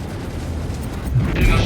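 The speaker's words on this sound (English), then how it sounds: "Enemy ship destroyed." A deep rumbling blast from an enemy ship blown apart in the space game Star Citizen, building into a louder low boom near the end over an ongoing background rumble.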